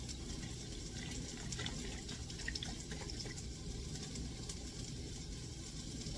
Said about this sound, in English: now we're going to add our 1 cup of chicken broth